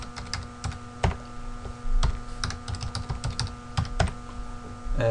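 Keys clack on a computer keyboard as a password is typed, irregular bursts of close, crisp taps with short pauses between and a heavier thump near the end.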